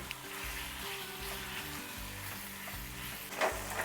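Chicken curry cooks in a pan just after the chicken goes into the hot oil, giving a steady close sizzle and frying crackle throughout with no voices.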